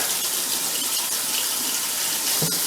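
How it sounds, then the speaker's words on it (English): Cold water runs steadily from a tap into a sink, a continuous close splashing stream with a brief louder gush near the end and no voices. "Now I'm actually thinking we're going to get some cold water running over it first."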